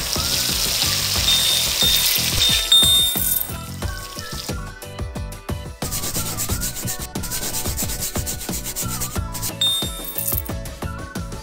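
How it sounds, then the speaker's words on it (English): Soap being scrubbed over a face in a children's makeover salon video game: rhythmic rubbing and foamy squishing effects with bright chimes, over continuous cheerful game music. "Now wash my face, please."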